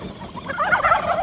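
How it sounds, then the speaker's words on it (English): Turkeys near a farm ATV gobble in a quick rising burst of warbling calls, fairly close, with a low motor hum beneath. "Oh, turkeys."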